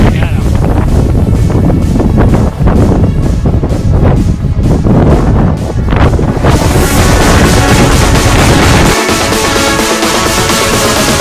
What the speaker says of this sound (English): we got about 40 mile an hour gusts, constant